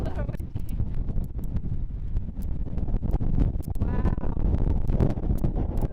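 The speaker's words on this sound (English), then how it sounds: "a little windy out here, huh?" Wind buffets the microphone in a constant low roar and rumble outdoors on a canyon hiking trail at Cedar Breaks National Monument, Utah, with someone talking faintly underneath.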